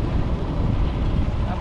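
Strong wind buffeting the microphone on a mountain road between Butwal and Palpa, a loud continuous rumbling roar that fills the whole moment, close and steady.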